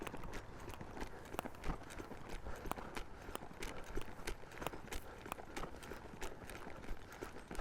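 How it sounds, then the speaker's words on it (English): A horse in a snaffle bit loping in circles during training, its hooves thudding in a quick even three-beat rhythm on soft ground, steady and moderately close. "if Bones just breaks off into that lope"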